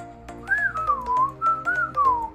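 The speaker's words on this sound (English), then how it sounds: "There I go again whistling." A person whistles a gliding melody, close and clear, the notes rising and falling smoothly over soft background music from a Geometry Dash level.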